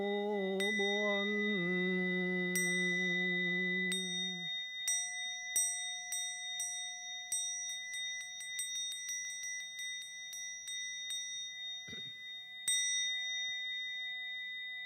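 A bell rings with a full, sustained tone that slowly fades, followed by a series of lighter, brighter chimes and tinkling strikes, heard clearly in a quiet setting.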